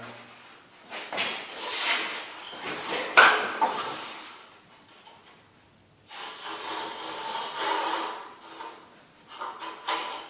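A blade scores a plywood board being cut before kitchen tiling, making scraping, rasping strokes in two bursts separated by a quiet pause, close and moderately loud.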